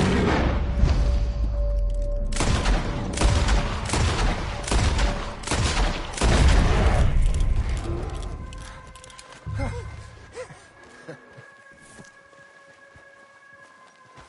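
Rapid volleys of gunfire crack and boom in a Red Dead Redemption 2 hunting scene, dense and loud for about eight seconds before thinning into scattered shots and quieter ambience with brief voices.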